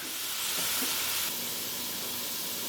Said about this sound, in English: In the pot now, I've got onions, celery, and garlic